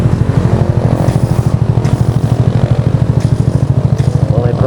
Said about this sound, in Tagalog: May problema pa motor Jerry ah.